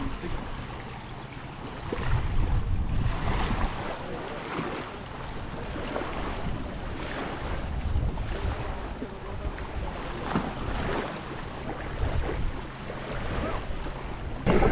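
Strong wind buffets a boat out on the sea off Palm Beach, Florida during stone crabbing, making a steady, broad rushing roar with gusty surges and water noise throughout.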